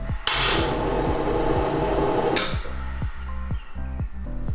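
A kitchen gas stove is lit for pan-frying pancakes: a sharp ignition click followed by a broad rushing hiss of gas, then a second burst, all over soft background music.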